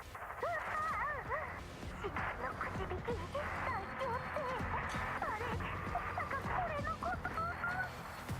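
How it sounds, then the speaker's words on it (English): Loud, continuous howling and yelping from a dog-like creature fills a communicator channel in the game GFL2, with wavering, repeated cries over a dense, noisy background. "The moment the line connects, a deafening howl can be heard to the channel."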